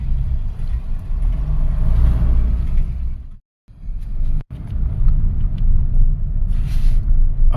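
2009 Honda Fit on a road drive, a steady low rumble of engine and tire noise from inside the cabin with a brief drop-out midway, otherwise continuous and fairly loud.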